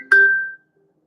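A single bell strikes once by a lake, a clear bright ding with a sustained ringing tone that fades out within about half a second, followed by silence.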